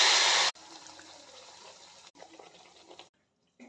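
Malpua batter hits hot frying oil with a loud burst of sizzling, then settles into a quieter, crackling fry that fades briefly and returns near the end.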